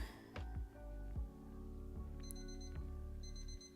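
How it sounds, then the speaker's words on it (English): A kitchen-style timer alarm goes off during an animation study session, sounding a rapid series of sharp electronic beeps in quick bursts, fairly quiet and close with no talk over it. "and then there goes the timer."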